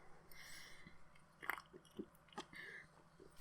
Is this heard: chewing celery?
yes